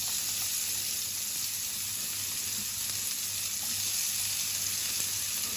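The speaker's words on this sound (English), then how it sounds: "Now you're going to fry your vegetables." Onions and peppers fry in a pan with a steady, close sizzle and crackle that stays even throughout, with no talking over it.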